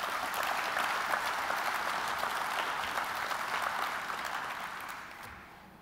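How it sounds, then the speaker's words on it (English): An audience applauds at a chamber of commerce annual dinner, steady even clapping from a large room that holds level and then tapers off toward the end. "So one more round of applause for Christine,"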